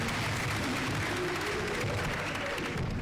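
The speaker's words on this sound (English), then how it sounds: "Let's clap for ourselves." Children clap at a World Children's Day gathering in Kenya, a dense, steady wash of applause that fills the whole moment without a break.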